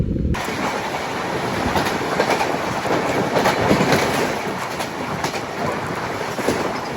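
A passing train on the line near Ramanagara, bound between Mysuru Junction and Jaipur, roars by close and loud with steady clickety-clack of wheels on rail joints and faint squeals throughout.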